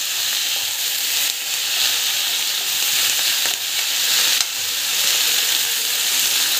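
Mixed greens sautéing in a pan for a green chutney, a steady close sizzle that runs throughout with a couple of brief dips, no talking.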